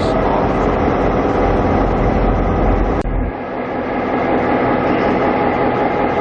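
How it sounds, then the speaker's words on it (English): Triple-headed train led by a 2400 class locomotive with two 1700 class units, a loud, close, continuous rumble and roar that drops slightly after a sharp break partway through. "triple-headed locomotives on this train, should be about 11-car train, but it's a 2400 class and a couple of 1700 classes"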